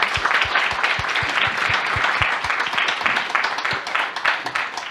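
An audience at a human rights talk applauds the speakers, with continuous clapping and a few sharp, distinct claps standing out close by.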